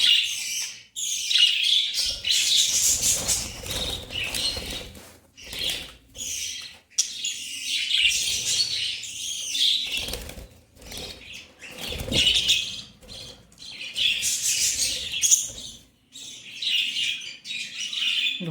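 Birds flap their wings and chirp close by, bursts of fluttering mixed with tweets and squawks, while a person handles and catches birds perched nearby.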